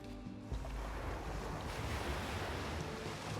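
Sea waves in the video game Unravel surge and wash in a steady, broad roar with wind-like hiss, loud and continuous after a brief quieter start.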